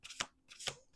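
Two quick riffling card shuffles, crisp and close, separated by a short pause, with the start of a third at the end.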